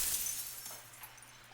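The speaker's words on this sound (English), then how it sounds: "That freaking glass breaking sounds every time gets me." A sharp glass-breaking effect from the video game Slay the Princess shatters at once, then fades into a scattered tinkle of falling shards with no voices.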